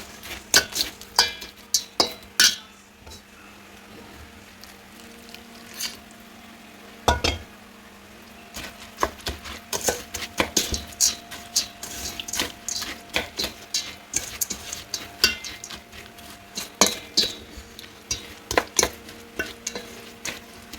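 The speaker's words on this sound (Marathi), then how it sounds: "थोडा घालून मिक्स करून घेत आहे." Sev laddu mixture with sugar syrup being stirred in a pan: repeated close scraping and clinking strokes in an irregular rhythm over a faint background hiss, with no voices.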